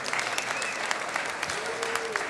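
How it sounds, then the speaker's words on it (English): Audience applause for the winners at a live music show taping at The Factory, a steady dense clapping wash that fills the whole moment without a break. "A big round of applause for the winners."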